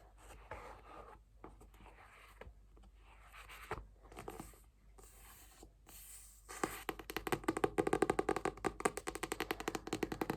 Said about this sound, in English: Some book noises, tapping, page turning, all that good stuff.